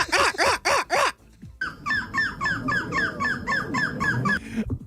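A person imitates a bird call, repeating a rapid series of high chirping, honk-like squawks, first a few loud bursts, then a longer quicker run of short warbling notes, with faint background noise and some voices.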